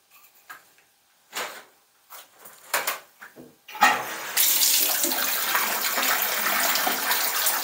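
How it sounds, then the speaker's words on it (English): Tap water pours into a bathtub and drains away after a Ridgid Power Clear drain cleaning, a steady loud rush following a few knocks and handling noises. "the water is flowing very, very nicely through that drain right now"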